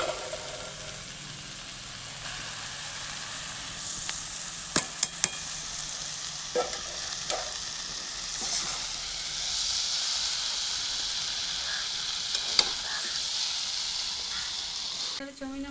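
Chowmein noodles stir-fry with half-boiled vegetables in a hot pan, giving a steady close sizzle with scattered sharp scraping taps from stirring, continuous throughout.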